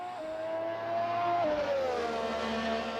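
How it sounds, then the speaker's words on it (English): An F1 2018 car engine in Assetto Corsa drops in pitch through downshifts, a high turbo whine riding above the tone, heard loud and close without voices. "The noise on the downshift, the gargles, the turbo whine."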